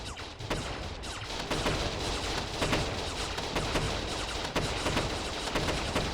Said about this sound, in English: And booms everywhere, explosions